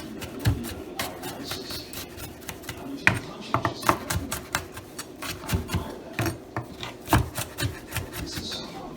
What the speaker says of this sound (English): And then you can just do a rough chop